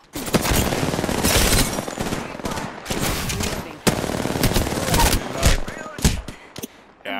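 Loud, sustained automatic gunfire in Apex Legends, dense bursts of rapid shots with brief pauses between them, close and dominant throughout.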